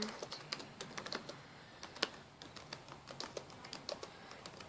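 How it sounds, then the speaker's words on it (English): Typing on a computer keyboard, a steady run of quick close key clacks at an uneven rhythm, fairly soft, with one sharper keystroke midway and no talk. "I'll type something else."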